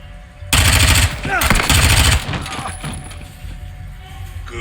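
Loud automatic gunfire in Call of Duty: Modern Warfare 2, heavy bursts for under two seconds followed by scattered shots and echoing impacts, with game dialogue around it.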